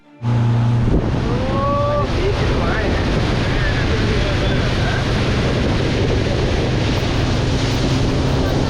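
A speedboat racing across the reservoir at Maithan Dam gives a loud, constant roar of wind and rushing water, with faint voices calling out beneath it.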